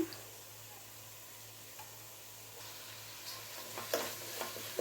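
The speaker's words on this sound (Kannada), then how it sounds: "ಟೊಮೆಟೊ ಚೆನ್ನಾಗಿ ಫ್ರೈ ಆಗ್ತಿದೆ ಆಗಲೇ" Tomato frying in a pan for a sour okra gojju, with a steady, close sizzle throughout and a few louder stirring scrapes and clinks toward the end; no one speaks.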